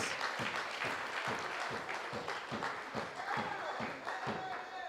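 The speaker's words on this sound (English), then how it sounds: "give them a round of applause" Members of a political party's youth wing clap together at an event, making faint, rhythmic, evenly spaced beats with a crowd murmuring behind them.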